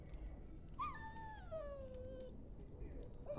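A dog whimpers in Dragon Age: Origins, one drawn-out, falling whine over steady in-game background noise.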